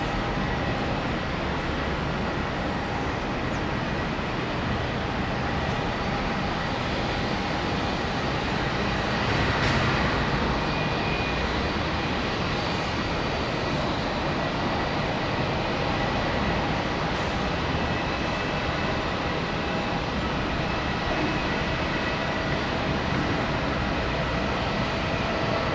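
A Qantas Boeing 787 taking off from runway 34 at Melbourne, a steady, loud jet roar that fills the whole stretch without letup and with no voices over it.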